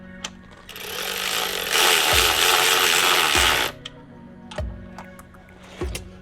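A power tool tightening Hasport motor mount bolts on a Honda Accord, a loud whirring burst that runs for about two seconds, then several short clicks and clunks of tools nearby, with no speech.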